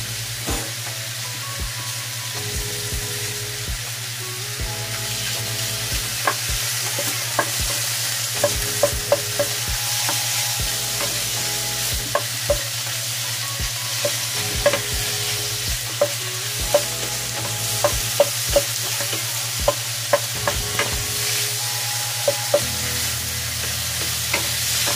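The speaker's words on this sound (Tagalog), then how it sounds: "ilagay na natin yung ating meat para maano natin yung lansa" Meat sizzles steadily in hot oil in a pan while being stirred, with scattered scraping clicks of the utensil over a constant low hum through the whole stretch, no talk.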